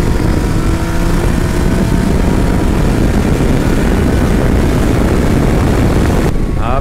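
A Yamaha Niken three-wheeled motorcycle is ridden at speed, its engine a faint hum buried beneath constant loud wind roar and buffeting.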